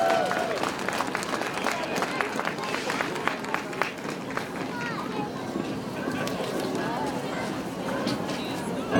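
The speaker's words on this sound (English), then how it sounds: "Let's give a big round of applause to Mrs." Outdoor crowd applauding and cheering to welcome a singer at a holiday tree lighting in Copley Square, a dense steady wash of clapping with scattered shouts over about nine seconds.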